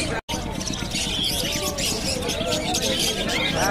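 Pet birds such as budgerigars chirp and twitter in a shop, a dense busy chatter running throughout while people talk nearby.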